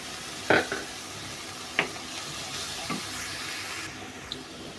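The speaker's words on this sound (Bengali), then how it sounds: "এখন আমি মশলার সাথে ভালো করে কষিয়ে নিচ্ছি।" Soaked moong dal being stirred and fried with turmeric, chili and salt in a pan: a soft steady sizzle broken by three or four sharp spatula scrapes, close and alone.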